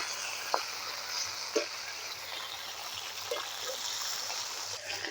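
Fish (red karfu) frying crisp in plenty of oil, a faint, steady sizzle with a few soft pops or utensil taps and a low background hum.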